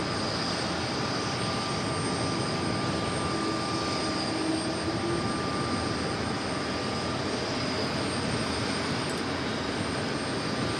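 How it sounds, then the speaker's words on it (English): A Boeing 787-8 Dreamliner taking off from runway 4 left at JFK produces a steady, broad engine roar with a faint thin whine, continuous and moderately distant, without voices. "the 787-8 Dreamliner also will be taking off for us here on 4 left"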